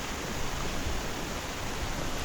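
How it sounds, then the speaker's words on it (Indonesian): Loud waterfall at Curug Lawe on the Ungaran mountain trail, a dense, constant roar of falling water filling the scene close up with no other sound. "suara air terjunnya itu terlalu kencang"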